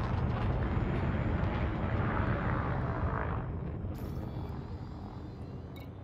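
Spaceship engines roar steadily as the craft ascends in a space video game, a dense low rumble that stays loud and fairly constant, easing slightly toward the end, with a couple of brief high clicks late on.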